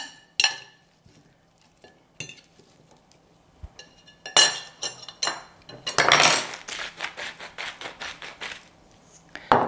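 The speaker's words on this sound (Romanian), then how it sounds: "O să iau 2 furculițe să-l amestec puțin." Metal forks clink and scrape against a bowl while tossing asparagus dressed with olive oil and salt, in irregular bursts of tapping and rattling with short pauses.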